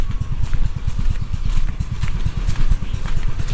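A powerful boat engine chugs steadily up close, with a rapid, regular low thump of firing strokes under a loud, rumbling drone.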